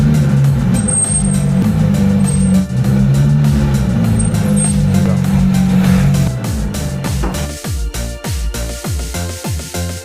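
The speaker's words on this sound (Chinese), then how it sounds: "来，先往前开，我听刹车的异响在哪里？" A car driven slowly forward during a check for abnormal brake noise gives a steady, loud low rumble inside the cabin, with a few brief high-pitched squeals early on and a rhythmic pulsing thump toward the end.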